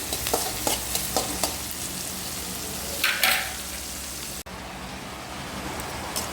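Keerai greens fry in a pan with a steady hissing sizzle, close by, as a ladle scrapes and taps in quick bursts and a louder hiss flares midway before the frying continues evenly.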